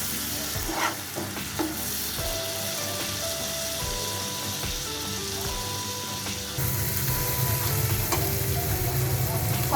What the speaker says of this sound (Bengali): কষানোর এ পর্যায়ে আমি সামান্য পরিমাণ জল দিয়ে দিচ্ছি।